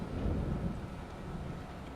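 Rumbling thunder from a lightning storm in the sci-fi shooter Interstellar Marines, a low, steady roll that swells early and then holds as a continuous distant rumble, with no voices.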